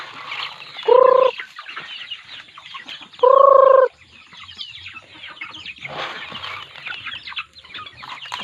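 Chickens in a pen call out with two loud, harmonic squawks separated by a couple of seconds, over a background of softer clucking and rustling.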